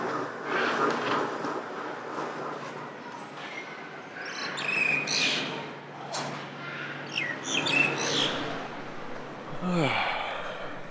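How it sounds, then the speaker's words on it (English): Morning birds chirp and tweet in short, scattered bursts over a soft outdoor background in warm weather, with a few sharper calls near the end. "The birds are chirping."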